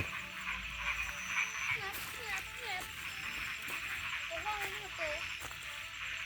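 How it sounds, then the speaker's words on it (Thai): Frogs croak at night in a rural Thai setting, giving repeated short warbling calls in small bursts over a dense steady hum of insects, with a person speaking nearby. "เสียงกบเสียงเสียดที่ไหน"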